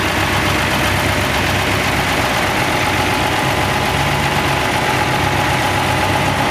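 A tractor engine idles at a tractor ride event, a steady low rumble with constant vibration that stays even and close throughout, with no voices.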